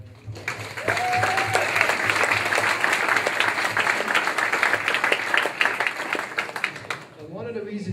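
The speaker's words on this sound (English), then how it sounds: "How about a round of applause for that?" Seminar audience in Waimea breaking into sustained applause, a dense wash of clapping that rises quickly and holds steady for several seconds, with a brief tonal sound early on and a voice emerging as it fades.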